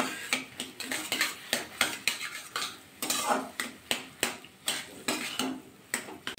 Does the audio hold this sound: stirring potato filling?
yes